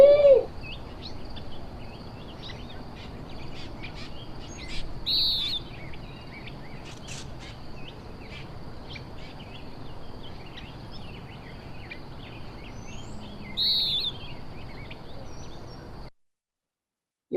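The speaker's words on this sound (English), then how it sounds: "Western wood pewee." A Western wood pewee sings, its thin, buzzy slurred notes repeating at intervals over a faint background of other birds and insects, fairly clear and with no talking.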